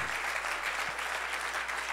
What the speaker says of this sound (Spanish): Dale el aplauso a Jesús.